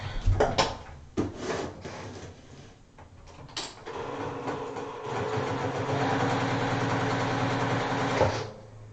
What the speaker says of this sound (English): stitch all the way around all 4 edges of this with my normal 1/4-inch seam